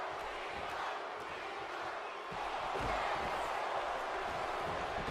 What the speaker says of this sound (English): this crowd solidly behind Cena here in Chicago